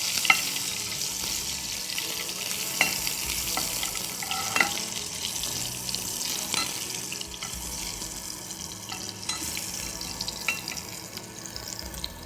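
Onions frying in a pan for a home-style chicken gravy: a steady broad hiss of sizzling oil runs throughout, broken by occasional soft clinks and stirring scrapes, moderately close and with no talking.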